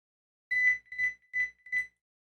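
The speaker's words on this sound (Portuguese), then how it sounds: "Som de alerta para pausa, ou seja, quando acabar os 25 minutos, esse som aqui vai tocar" Four short electronic beeps in an even rhythm, alone and clear, sound as the break alert of the Focus To Do pomodoro app when a 25-minute work session ends.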